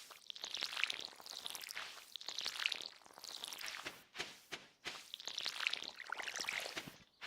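Watering a plant with a watering can in Stardew Valley: three repeated pouring swooshes of trickling, splashing water in an even rhythm, soft and close, with no voices over it.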